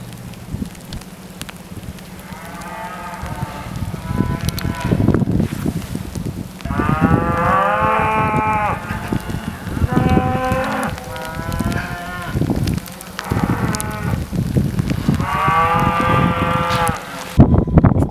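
Cows moo repeatedly in long, drawn-out calls, several overlapping lows rising and falling over a steady background hum, close and loud with no talk.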